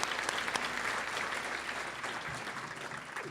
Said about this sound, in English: Let's give all of our top teachers some well-deserved applause.